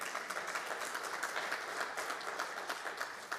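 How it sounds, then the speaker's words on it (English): An audience at a school district State of the District event applauds, producing a dense, steady burst of clapping from a crowd at moderate distance. "let's give a round of applause."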